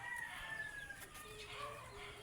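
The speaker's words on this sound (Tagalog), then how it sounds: "Pero maraming manok dito" Chickens cluck and call softly in the background, several birds at a moderate distance, with no one speaking.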